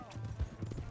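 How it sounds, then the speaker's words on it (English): A horse's hooves clip-clop in a quick, rhythmic gallop in the video game Red Dead Redemption 2, heard briefly alongside a shouted voice. "Hey, that's my horse!"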